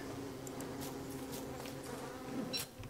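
A bee buzzes in the survival video game Don't Starve, a steady low insect drone running through the whole stretch with no talk over it.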